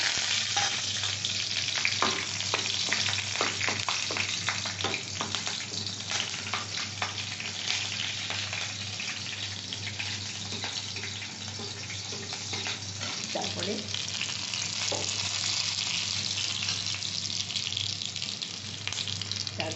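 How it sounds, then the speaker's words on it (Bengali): Cinnamon, cardamom, cloves, black peppercorns, bay leaves and green chillies crackle in hot ghee, a loud, steady sizzle running throughout with occasional clinks of stirring. "আমি এইবার এই দারচিনি এলাচ লবঙ্গ গোলমরিচ তেজপাতা আর কাঁচা লঙ্কা ফোড়ন দিয়ে দিচ্ছি"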